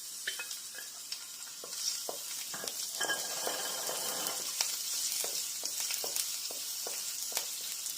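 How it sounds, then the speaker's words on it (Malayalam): Garlic sizzles in a pan over medium heat as it is stirred until browning, a steady close frying hiss broken by frequent scraping and tapping of the spoon against the pan. "ബ്രൗൺ ആവണ വരെ ഇത് നല്ലപോലെ ഇളക്കി കൊടുക്കുക."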